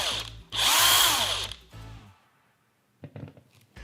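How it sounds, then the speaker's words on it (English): A cordless impact wrench motor whirs up with a smooth ramp, runs loud and steady for about a second, then winds down to silence, followed by a few faint handling clicks. "I really like the smooth ramp up and ramp down of the motor when you press the trigger"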